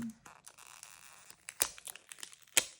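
Paper stickers being peeled and torn, with soft crinkling and two sharp ripping snaps, quiet and close with no talking.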